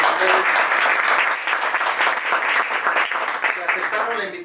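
Broad crowd applause fills the clip, a dense steady wash of clapping held at a loud level from start to finish.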